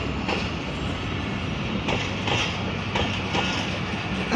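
The Rehman Baba Express passenger train at Drigh Road station rumbles steadily with a broad, continuous roar. Periodic clacks of wheels over rail joints come through the noise, and no voices are heard.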